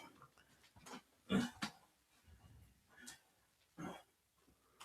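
A dog barks a few times at moderate distance, short sharp bursts spaced irregularly, with someone talking faintly nearby and someone outside trimming a tree.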